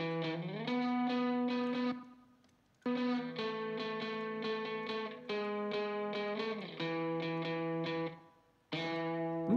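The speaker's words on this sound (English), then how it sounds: "just want to get a slap back on this" Distorted indie rock guitar chords played with a short slap-back delay in a mix, strummed in bursts with two brief gaps, loud and steady with no talking.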